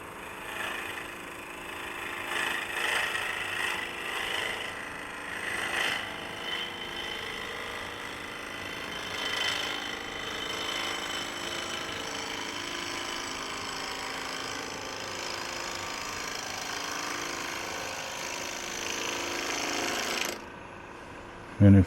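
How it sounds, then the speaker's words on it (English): A fresh sharp gouge takes a finishing cut on a fork-in-the-limb wooden bowl spinning on a lathe, giving a steady continuous scraping whir with rough grainy bursts, fairly loud and close, with no talking. "I'm going to grab a fresh sharp gouge, and what we're going to do is come in and make a finishing cut"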